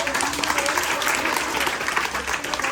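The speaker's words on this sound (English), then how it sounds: "Can you give them a big round of applause?" A classroom audience applauds a group of students, steady dense clapping from many hands filling the room without a break.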